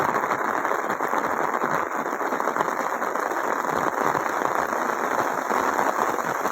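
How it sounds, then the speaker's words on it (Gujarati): Heavy rain pours down in Rajula as a dense, steady hiss of drops beating on surfaces, even and unbroken throughout, with no voices heard. "ફૂલ જોરદાર વરસાદ રાજુલામાં ચાલુ છે."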